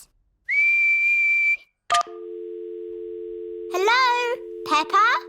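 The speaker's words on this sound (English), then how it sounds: "What's whistling anyway? You put your lips together and blow." A cartoon character whistles by blowing through pressed lips, a steady high-pitched tone held for about a second. A low sustained tone follows, with animated character voices chirping over it.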